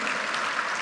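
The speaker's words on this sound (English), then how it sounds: "Ladies and gentlemen, can we have a louder round of applause to thank Shri Ajay Kumar Chaudhary?" At a fintech festival the audience gives a brief burst of even, dense applause in thanks to Shri Ajay Kumar Chaudhary.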